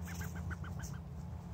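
Domestic ducks back in their pen after the owners return from a trip, giving a run of short quacking calls about six or seven in quick succession, close and moderately loud over a steady low hum.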